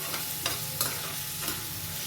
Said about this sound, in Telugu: కొంచెం గోల్డెన్ బ్రౌన్ వచ్చేంత వరకు వేయించుకోవాలి.